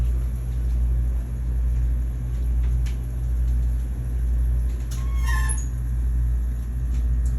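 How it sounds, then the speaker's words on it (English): Garbage truck outside a window, a loud steady low engine rumble with rhythmic swells and a brief squeal of brakes or hydraulics midway, heard from indoors. "There's a garbage truck outside,"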